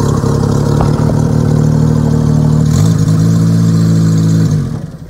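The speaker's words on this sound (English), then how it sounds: "I'm gonna start up the pony motor here" A Kubota pony motor on a forestry bucket truck runs steadily up close at a loud, even drone, with a slight change partway through before it cuts off and winds down near the end.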